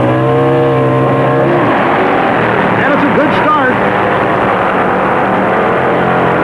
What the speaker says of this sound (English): It's a Harley in the near lane against a Triumph in the far lane, both double-engine machines.